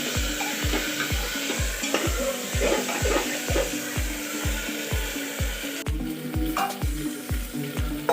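Meat for chicken biryani sizzles and fries in a pot with a little added water while it is stirred, giving steady sizzling and regular rhythmic scraping strokes throughout, no voices.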